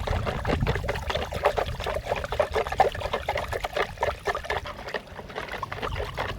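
Fish food mixture for betta fish being poured into a bucket, a soft continuous trickling pour with wet splashing, fairly quiet and close, with no talking.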